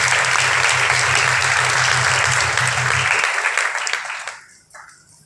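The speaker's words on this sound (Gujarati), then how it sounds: "આપણે બધા જ બહુ જોરદાર તાળીઓથી સ્વાગત કરીશું" Dense, loud audience applause welcoming a sergeant giving a welcome speech at a church Sunday gathering in Nadiad, steady for about three seconds before thinning out and fading to near silence.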